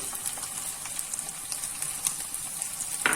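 Fenugreek leaves hit a pan of frying paneer and green pea pulao, bringing on a soft, steady sizzle with scattered light crackles and a brief louder spit near the end.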